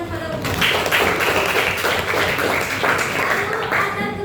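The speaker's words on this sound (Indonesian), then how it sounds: "Berikan tepuk tangan kepada rumah." A class of students in an Indonesian school lesson applauds with steady, dense clapping that fills the whole stretch, fairly loud and close, with a few voices mixed in underneath.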